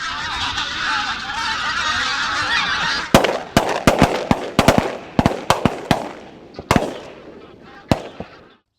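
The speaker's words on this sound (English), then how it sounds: "Another skein closes the distance and a fusillade of shots rings across the field." A skein of geese honks loudly over a field, then a ragged volley of about a dozen sharp shotgun blasts cracks nearby as the honking thins out.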